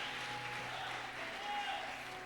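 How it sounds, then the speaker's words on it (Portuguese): Church congregation applauding at a worship service, a steady dense wash of clapping with no break, fairly loud and close. "Aplaude Ele, o Jesus de Nazaré"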